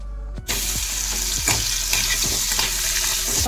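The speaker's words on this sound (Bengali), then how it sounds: "ঘিটা হালকা গরম হয়ে গেলে আমি এই শিঙি মাছগুলো একটু হালকা ভেজে নেব।" Loud, dense frying sizzle of stinging catfish in hot ghee, with repeated scraping stirs and clinks against the pan throughout, no talking.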